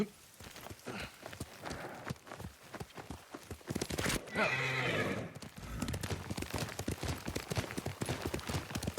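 A horse whinnies loudly in the middle of the video game Ghost of Tsushima, surrounded by steady hoof clip-clops and busy background noise, with a voice faintly present.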